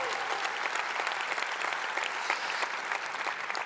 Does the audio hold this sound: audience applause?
yes